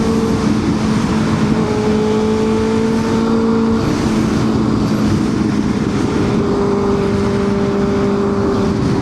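Porsche 718 Boxster moving in heavy traffic on Highway 75 in Dallas, heard as a continuous loud roar of engine and road noise with gently shifting tones and no talk.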